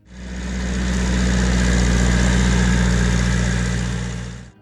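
A John Deere 3010 tractor engine idles steadily at close range, a deep low rumble with a constant vibrating throb that holds at even loudness throughout, with no voices.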